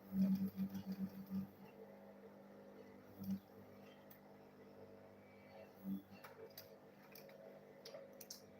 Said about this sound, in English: So now I'll go ahead and sew it together with this one here.